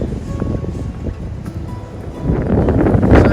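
Cold wind on the Appalachian Trail, at about 33 degrees, buffets the microphone as a steady low roar that swells louder toward the end, with no voices.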